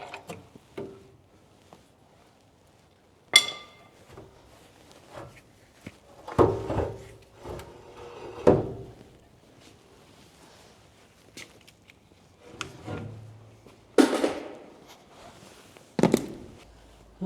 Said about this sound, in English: pry bar there to help us out.